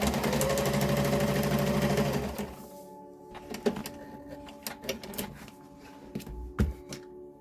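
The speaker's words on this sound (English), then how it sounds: "will use my sewing machine to attach this paper to the cover" A sewing machine stitches paper onto a book cover, running in a steady mechanical whir for about two seconds, then falling quiet amid soft handling clicks and taps close by.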